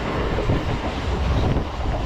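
A crowded MEMU passenger train running fast between Vijayawada and Bhimavaram gives a steady, loud rumble with continuous rattling and clatter throughout.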